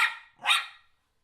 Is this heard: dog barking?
yes